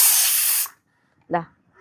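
A pressure cooker whistle cooking lentils releases a loud, steady hiss of steam for over half a second, then cuts off sharply, followed by a brief voice.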